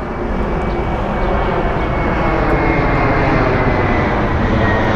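A JetBlue airplane comes in to land, its engine roar loud, steady and continuous throughout, broadband and close.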